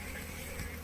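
Honey bees buzzing around wooden beehive boxes on a honey farm, a steady dense drone that stays loud and close throughout the brief moment.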